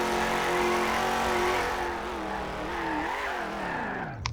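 A simfphys car in Garry's Mod drifts and skids with a steady engine drone, tyre squeal running along under it, loud and close and continuous.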